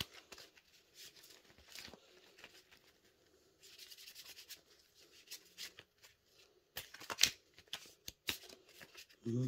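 A deck of playing cards being shuffled at close range during a card trick, with soft riffling bursts and rubbing flicks in quick clusters, quiet and intimate, separated by brief pauses and a sharper snap near the end.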